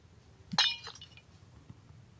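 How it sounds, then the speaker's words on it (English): A glass block broken in Minecraft Pocket Edition: a single sharp crash of shattering glass with bright clinking fragments, fairly faint against a quiet background. "Destroy this glass."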